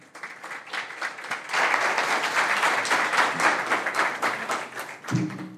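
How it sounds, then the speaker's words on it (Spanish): An audience at a green hydrogen finance conference panel in Chile claps warmly, starting softly, swelling to a dense sustained applause and tapering off near the end. "La recibimos con un caluroso aplauso."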